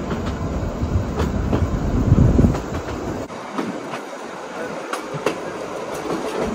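Passenger train rolling along the tracks, heard from on board: a steady, loud rumble with repeated clickety-clack of wheels over rail joints, a louder rush near the start that eases to quieter rolling, with no talking.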